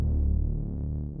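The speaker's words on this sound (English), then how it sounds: "It's a bass Dirty Reese out of my preset library." A gritty Dirty Reese bass synth preset in Cubase, part of an uplifting trance arrangement, drones as a sustained thick low tone with a slow wobbling throb, loud and alone for a brief moment.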